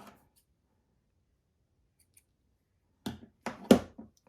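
Scissors snip the ends of a piece of card in a handful of quick close cuts, about four sharp crunchy snips after a near-silent pause.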